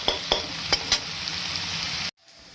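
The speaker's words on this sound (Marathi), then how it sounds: "कांद्यात मीठ घालून छानपैकी कांदा मऊ होईपर्यंत फ्राय करून घ्यायचा आहे आपल्याला" Onions salted and frying in a pan for pav bhaji give a steady close sizzle, broken early by several sharp taps of a spoon against the pan, before the sound cuts off abruptly.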